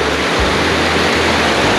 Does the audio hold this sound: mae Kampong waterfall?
yes